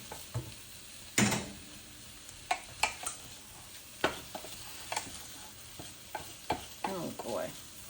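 Cooked squash or pumpkin and vegetables stirred in a pan, a series of scattered spatula scrapes and knocks over a faint sizzle, close and fairly quiet, with no talking.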